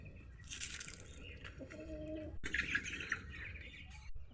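Poultry on a poultry farm chirp in a busy, overlapping chorus of thin, high calls, moderately close and fairly quiet, with a brief lower cooing note midway.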